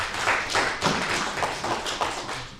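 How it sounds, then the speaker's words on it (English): Audience applause at a Wyandanch school board meeting, a steady patter of hand claps from a modest crowd lasting a couple of seconds, fairly close and without talk. "Round of applause, ladies and gentlemen, for the good work of your school superintendent and staff."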